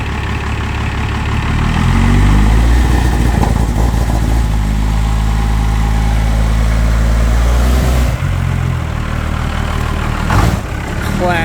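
A cheap quad's engine starts after two cranks and settles into a loud, close, rumbling run, with a voice speaking over it.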